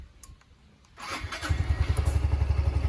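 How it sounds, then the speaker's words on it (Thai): A Yamaha QBIX 125cc scooter starts after a quiet lead-in, catching at about one second and settling into a close, rhythmic putter at idle. "ลองสตาร์ทฟังเสียงเครื่องกันเลยนะครับ"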